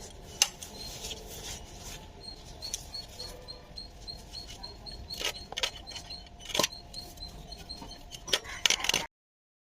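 Pomfret fish being cut in a home kitchen: irregular sharp knife clicks and taps on a board, some louder strikes standing out over a low background hum, ending abruptly.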